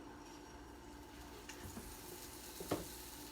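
Potato pieces frying in a little grapeseed oil in a hot skillet, a steady soft sizzle running throughout with a few brief clinks and stirring sounds, close and moderately quiet, no talking.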